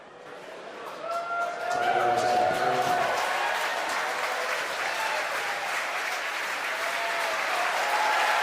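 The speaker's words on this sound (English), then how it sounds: "as you can hear from the applause and the video right there on your screen" Applause and cheering swell from a crowd of spectators as a SpaceX Falcon 9 first stage lands on a drone ship off Florida, rising after a second and sustaining loudly, with voices mixed in.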